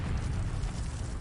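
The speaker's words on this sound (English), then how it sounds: "The explosives go off, and the building literally folds inward." Explosives detonate and a building folds inward during combat in the Kursk region, heard as a dense, sustained low rumble and roar at steady loudness with no distinct separate blasts.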